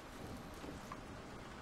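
Rain falls in Resident Evil 7 as a steady, dense wash of hiss with no breaks, moderately loud and heard on its own.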